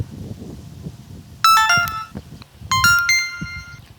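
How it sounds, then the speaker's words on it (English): An Insta360 One R camera plays its power-off prompt, two short bright melodic chimes in quick succession over quiet room noise. "You can listen to the brand new prompt sound the whole night."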